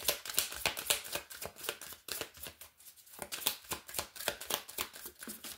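Tarot cards are shuffled and drawn by hand in a string of quick, crisp riffling bursts with short pauses between them, close and fairly quiet, with no talk.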